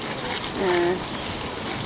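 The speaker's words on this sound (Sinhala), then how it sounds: "මේවල ටැප් ලයින් වලින් තමයි වතුර දාන්නේ." Water gushes from a tap line onto garden plants, a continuous rushing flow heard close and fairly loud, with a brief tonal sound rising above it midway.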